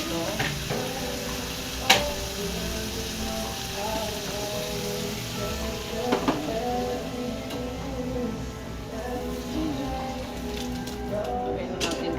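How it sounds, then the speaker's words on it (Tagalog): Vegetables and tomato sauté in a pan with a steady crackling sizzle, close by, with a few sharp clinks of a utensil against the pan and low background noise. "Medyo gisa-gisa na yung mga gulay. At labog na rin yung kamatis."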